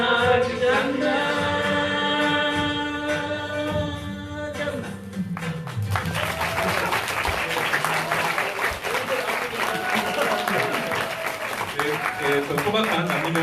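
Audience applause at a refugee film festival screening, a loud dense clapping crowd that swells after a sung performance and continues steadily for several seconds.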